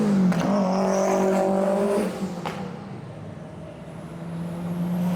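Several tuned cars, including a Z-Tune, an R34 and a drag-built S2000, drive in convoy in Guam. Their engines hum steadily and close by, dropping briefly midway before building again.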